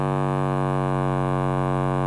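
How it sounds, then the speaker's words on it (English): A sustained distorted bass synth patch with no sub layer plays a single steady, buzzy, harmonically rich tone for about two seconds, loud and alone. "Now this sounds like a distorted bass"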